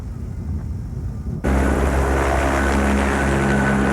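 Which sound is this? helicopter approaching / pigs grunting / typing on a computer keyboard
helicopter approaching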